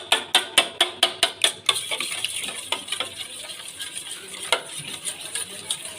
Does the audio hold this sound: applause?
no